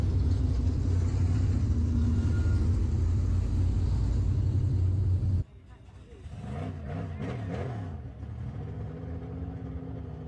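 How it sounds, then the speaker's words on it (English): Race cars lapping Lake of the Woods Speedway give a loud, continuous engine rumble that cuts off abruptly halfway, then quieter engines rise and fall in pitch as cars pass, with voices talking over them. "Boy, there's some fast cars here."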